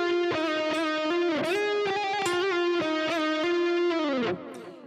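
A distorted electric guitar plays a fast melodic solo phrase, sustained notes with bends and quick picked runs, loud and alone.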